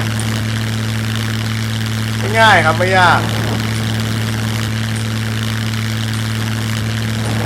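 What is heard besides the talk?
propeller airplane engine flying in video game SCUM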